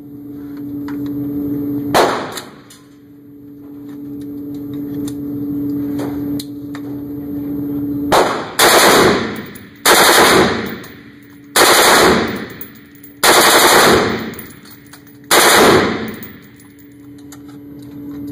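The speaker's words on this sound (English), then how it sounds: "So we'll take a little shot and see what happens." Troy M4 rifle build with Troy front and rear backup sights and a Trijicon red dot, fired outdoors. Two early shots over a steady hum, then a run of loud, sharp single reports spaced about every one and a half to two seconds.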